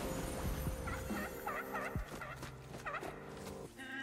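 Repeated honking, gobbling calls from a creature in the card game Legends of Runeterra, several short squawks over a steady bed of game music, loud and close.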